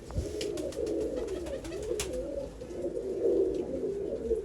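Pigeons coo steadily in soft, rolling, overlapping calls, with faint chirps and light clicks scattered above them.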